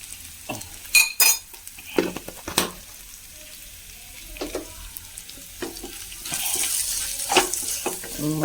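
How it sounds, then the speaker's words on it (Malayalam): Green chillies and Kashmiri chilli powder are sautéed in a pan for a coconut chutney. Scattered spatula knocks and scrapes come first, then a louder, steadier sizzle builds toward the end. "ഒന്ന് വഴറ്റി കൊടുക്കാം."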